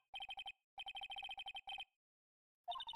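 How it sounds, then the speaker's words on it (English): A lost cell phone in a video game rings in rapid electronic trilling bursts: two clear groups split by a short gap, a pause, then another burst starting. The ringing is clean and unaccompanied. "The slimy son of a gun rang up the phone, and there it is"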